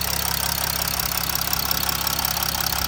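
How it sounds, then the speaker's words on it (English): A Mercedes OM 642 3-litre turbo diesel engine in a Chrysler 300C idling steadily up close, a low rumbling drone with a fast, even ticking clatter running through it. "Listen to that. Mercedes OM 642, 3 litre turbo diesel."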